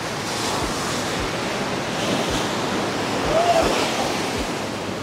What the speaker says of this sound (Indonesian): Jadi kita bakal ke ujung situ karena ombaknya lumayan naik.